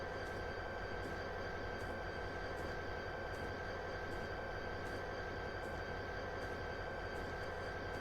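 Train moving in Train Simulator 2022 on the Chatham and Medway Valley lines, a steady low rumble with a constant whine and faint regular rail clicks, even and continuous, no voices.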